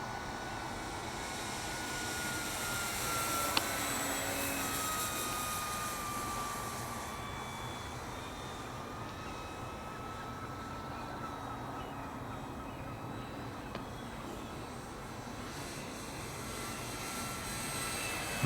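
A Dynam Hawker Hurricane RC model airplane flies on its maiden flight, its electric motor a steady, fairly faint whine with slowly shifting pitch over outdoor background noise.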